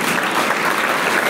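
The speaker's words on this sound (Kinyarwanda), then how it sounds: "Iri jambo ni muri komera amashyi muhagurutse," A standing audience gives dense, continuous applause that stays loud and steady throughout the short stretch, with no voices rising above it.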